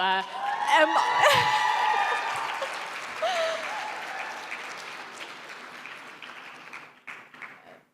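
A hype squad at the 2025 WBN BYA gala cheers and applauds loudly in one burst, with whoops and shouts over dense clapping that swells early and then slowly fades away.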